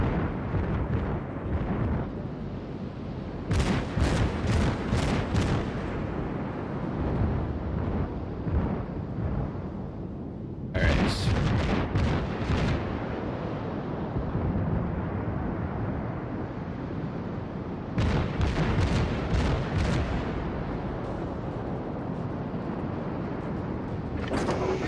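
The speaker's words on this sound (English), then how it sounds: "Blind fire, maybe I'll get lucky." The Minekaze destroyer's guns fire in World of Warships in three separated salvos of sharp, booming reports. Between them runs a steady roar of wind and sea.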